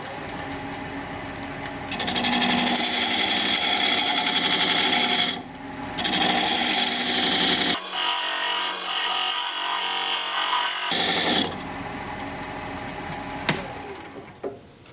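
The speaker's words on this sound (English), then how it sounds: "Now I'm going to use this diamond point tool to square up the sides of the tenon." A wood lathe turns a bowl while a diamond point tool squares the sides of a tenon, giving loud continuous scraping and rubbing in long cuts with brief pauses and a few knocks at the end.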